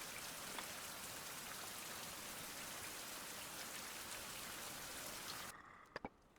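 Steady rain pours down outdoors at night, a dense even hiss of drops on surfaces that cuts off abruptly near the end, leaving a few isolated knocks.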